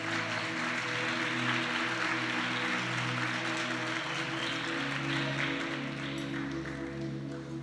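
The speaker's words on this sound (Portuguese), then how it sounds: "Aplauda o Senhor nessa tarde." A church congregation applauds in a dense, steady wash of clapping over sustained musical tones, continuing at full strength throughout.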